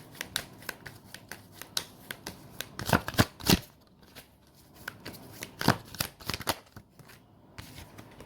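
Tarot cards being shuffled and drawn during a Leo reading, heard close up as a run of crisp riffles and snaps with louder bursts in the middle and brief soft flicks throughout, no voices.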